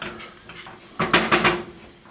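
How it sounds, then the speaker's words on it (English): A spoon knocks and scrapes in a pot while steak sauce is stirred, giving a few short clinks and clatters close by. "Now we're just going to stir this up."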